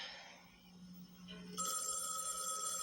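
A telephone bell rings indoors, a steady electronic ring that starts quietly and grows louder partway through, with no talking.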